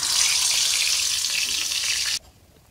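Taro pieces fry in hot mustard oil just after hilsa fish in a village kitchen, a steady bright sizzle that cuts off abruptly near the end, leaving quiet background.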